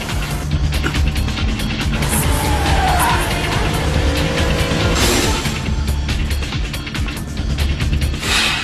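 A tuned L28 twin-turbo sports car of about 600 horsepower, shown in anime, roars loudly and continuously at full throttle with tire squeal and whining, close and dense throughout.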